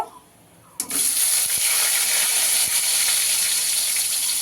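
Onions dropped into hot oil set off a sudden loud sizzle that holds steady as a bright, hissing fry close by, with no talking.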